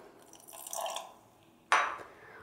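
Water poured into a thick, set semolina batter for suji samosa in a home kitchen: a soft trickle and splash early on, then a sharper liquid splash and drip near the end, close and clear with no talking.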